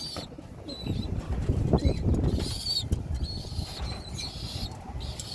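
Racing pigeons being fed before a derby coo in soft, overlapping murmurs close by, mixed with shuffling and a few sharper calls.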